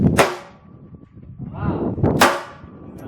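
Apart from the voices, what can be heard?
rapid fire shots from Accu-Tek AT380 II .380 ACP pistol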